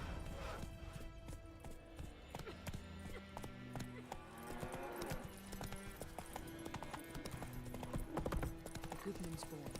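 Roach the horse gallops in The Witcher 3, steady clip-clopping hooves drumming close and continuous, with a voice talking over the rhythm.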